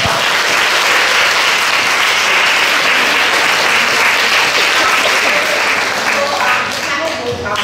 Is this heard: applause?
yes